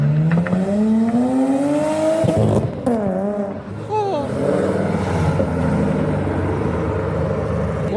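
A Vauxhall diesel car revs hard at a busy car meet, loud rising and falling engine tones with throaty surges, while people talk and shout nearby over the noise.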